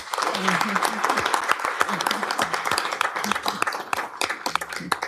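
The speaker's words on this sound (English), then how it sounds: "So, ladies and gentlemen, another round of applause, please." Audience applause at a city commission meeting, steady clapping from a room of people throughout, with a voice speaking over it at moments.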